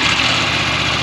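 A CF Moto 800 MT motorcycle engine runs at a steady idle, a loud continuous low rumble with even texture and no talking.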